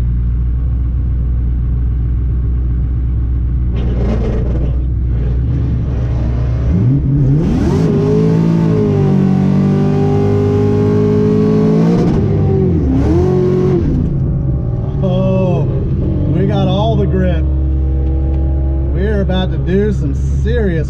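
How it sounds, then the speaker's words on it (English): Engines rumble and rev at a drag strip test-and-tune night as a Camaro lines up to race, rising and falling roars with whining acceleration, while someone talks over the noise throughout. "I'm gonna race this Camaro."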